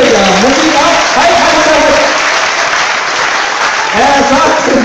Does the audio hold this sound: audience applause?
yes